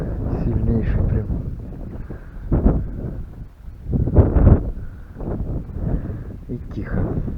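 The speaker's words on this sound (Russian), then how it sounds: "Вот это ветер не на шутку разошелся прям." Strong wind blows hard at a lakeside camp in Achadovo in gusty, buffeting bursts of low rumble across the microphone, with someone speaking between and over the gusts.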